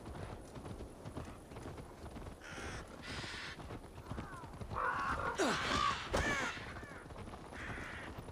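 A crow caws several times in Assassin's Creed Valhalla, with rising and falling calls over the steady clip-clop of horse hooves in the game.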